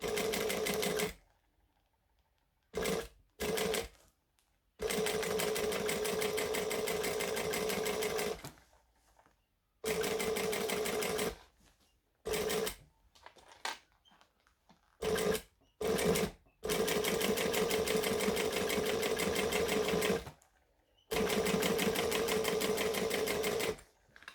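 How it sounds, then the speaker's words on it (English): A sewing machine top stitching fabric, running in steady humming bursts of a few seconds each with short silent pauses between, close and alone with no talk. "So I'm going to top stitch it."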